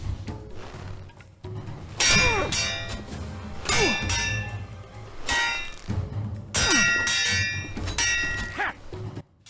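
Metal swords clang repeatedly as attacks are parried in Swordsman VR, a physics-based medieval sword combat game. Several bright ringing strikes come in bursts a second or two apart, loud and close, with no talk.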